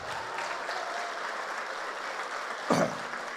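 A crowd claps steadily at a church conference in a continuous wash of applause, with one brief louder burst near the end.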